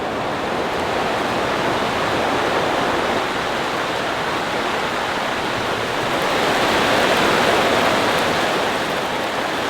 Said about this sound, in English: It is raining so hard outside